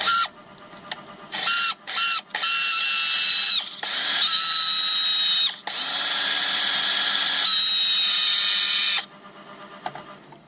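A power drill whirs in reverse during work on a hazel bowl, coming in short bursts and then longer sustained runs, its whine shifting pitch as the speed changes, close and loud with no talking.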